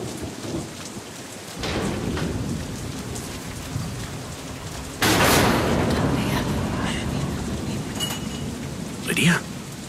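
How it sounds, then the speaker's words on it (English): A storm with steady heavy rain and rolling thunder, the rain hissing throughout while a loud thunder crack bursts in midway and a further rumble follows near the end. "Storm."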